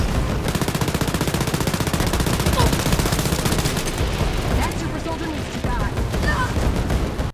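Boss-fight combat in Wolfenstein: Youngblood brings dense rapid machine-gun fire layered with explosions and heavy booms, loud and continuous through the whole stretch.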